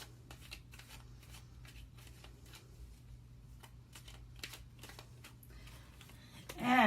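Morgan Greer tarot cards being shuffled close up, a soft, steady series of papery riffles and slaps repeating over a low hum, with a voice rising at the very end.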